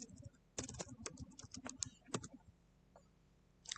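Quick bursts of keystrokes on a computer keyboard clatter close and quietly in uneven runs, pausing briefly and then resuming, with no one talking.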